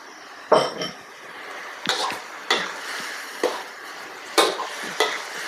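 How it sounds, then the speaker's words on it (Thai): Pork stir-fried with shrimp paste, with stink beans, in a pan: a metal spatula scrapes and clanks against it about seven times at uneven intervals over a faint background sizzle. "แล้วเราก็ผัดให้เข้ากันเนาะ"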